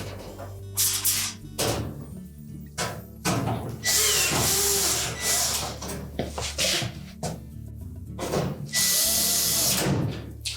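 A power tool drives screws into the back panel of a Frigidaire range in short whirring bursts separated by pauses, close and fairly loud.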